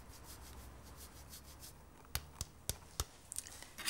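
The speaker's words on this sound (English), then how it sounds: "Parmesan. Just wonderful pale curls of it." Parmesan cheese is shaved into pale curls, a soft steady rubbing scrape followed by a few sharp close ticks and scrapes, quiet and without talk.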